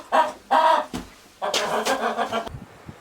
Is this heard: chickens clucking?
yes